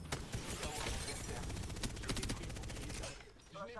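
Rapid automatic gunfire from the Apex Legends video game bursts in dense, loud volleys, then tapers off into a few scattered shots and faint voices near the end.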